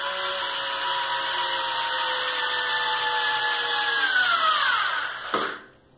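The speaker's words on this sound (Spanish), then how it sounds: "También puede ser un taladro." A cordless power drill driving screws whirs steadily for about five seconds, then winds down as its battery runs out and it stops, leaving near silence.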